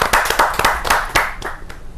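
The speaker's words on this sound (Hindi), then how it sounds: "जोरदार ताली के साथ हम स्वागत करते हैं" Audience applause greets a poet at a Hindi kavi sammelan, with a burst of many hands clapping in quick, overlapping claps that carry on loudly for the whole two seconds, no voices over them.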